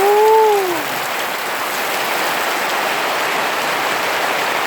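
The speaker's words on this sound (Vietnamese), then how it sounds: "bên đây nó đang mưa nhá đây này nó to quá rồi anh ơi" Heavy rain pouring in a dense, steady hiss that fills the scene, with a short whistling or chirping tone near the start, fairly loud and close, no talk.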